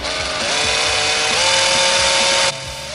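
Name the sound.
power screwdriver removing screws while dismantling decking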